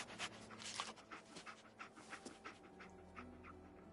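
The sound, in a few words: dog panting in the video game Fallout 4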